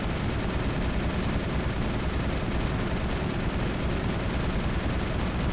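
Relentless gunfire from Mass Effect fills the whole stretch as a dense, unbroken roar of overlapping shots, loud and harsh with no pauses or voices.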